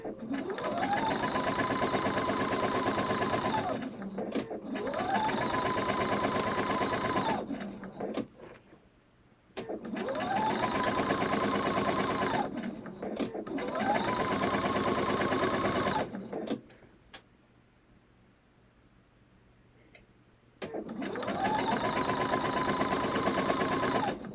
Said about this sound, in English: it might be picking it up from the sewing machine